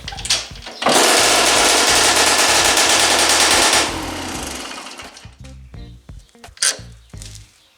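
A cold Romet 2375 moped engine with a gutted muffler runs loud and rapid-fire close by, a harsh rattling crackle that holds steady for a few seconds, then fades into sputtering, uneven pops and bursts.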